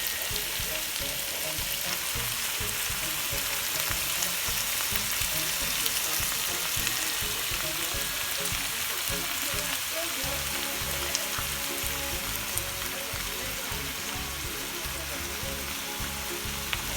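Shrimp searing directly on the bottom of a pot with vegetables pushed aside for Jamaican curry shrimp, a steady close hiss and crackle of frying that continues evenly without pause.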